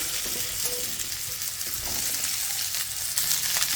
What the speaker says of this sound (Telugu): నూనె వేడెక్కింది. ఈ బెండకాయ ముక్కల్ని వేసేసుకుందాము.